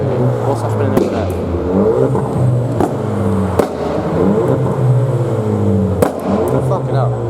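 Modified car exhaust at a car meet popping with sharp cracks and bangs over a revving engine drone, nearby and fairly loud, with several distinct pops spaced through it and voices chatting.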